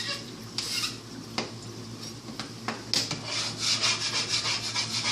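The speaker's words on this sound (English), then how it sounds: "While it's still hot, I can scrub off a lot of the excess right there." A still-hot cooking grill is scrubbed with rough, repeated rubbing strokes, steady at first and then turning louder and more rapid, with a faint hum underneath.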